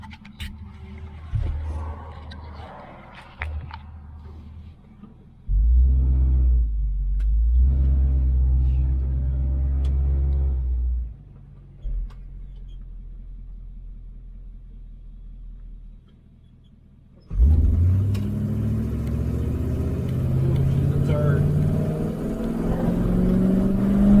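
A car pulls out onto a main road in Mexico for an eighth-mile run, its engine rumbling low, dropping out briefly, then surging in a loud rising acceleration over the last several seconds.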